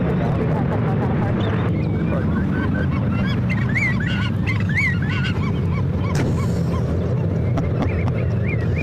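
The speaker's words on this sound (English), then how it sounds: "The birds are crazy today." Geese or similar waterfowl honk repeatedly around San Francisco International Airport, sharp calls rising over a loud, constant rumble of airport and engine noise, with a voice speaking faintly underneath.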